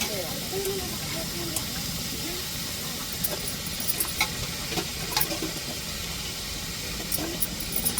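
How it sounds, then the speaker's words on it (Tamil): Oil sizzles and hisses steadily in a pan as chopped vegetables fry in tempering oil, with occasional small crackles and pops scattered throughout, no one speaking. "அதுக்காண்டி இப்போ தாளிப்புலேயே நம்ம சேர்த்துக்கிறோம் நறுக்கின காயை."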